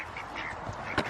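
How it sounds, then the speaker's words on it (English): Backyard ducks quack faintly in the distance, a few brief calls and one sharper quack near the end over low outdoor noise. "There go the ducks."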